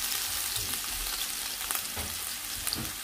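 Ginger sizzles steadily in a hot pan while cooking tilapia escabeche, a dense, close crackling hiss with a few scrapes of stirring, and no voice over it.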